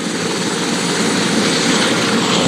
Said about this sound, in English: So there you guys get to see a helicopter take off.